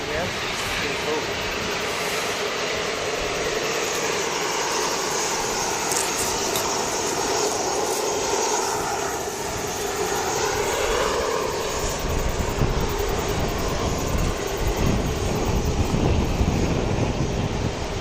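Dash 8 turboprop propellers at Wellington Airport, a loud, steady broadband drone with a slowly shifting whine that holds throughout and swells slightly toward the end, with faint voices mixed in.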